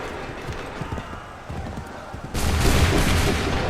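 Musket volleys crack out in Assassin's Creed III Remastered, ragged fusillades of gunfire that swell into a dense, loud burst near the end, mixed with battlefield clatter and shouted voices.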